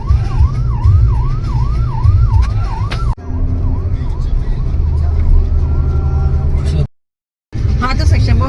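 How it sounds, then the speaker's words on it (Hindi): An ambulance siren wails in a steady rising and falling cycle as it passes through traffic, loud and close, with road rumble underneath and a short cut-out near the end. "वो एम्बुलेंस आ गई बीच में"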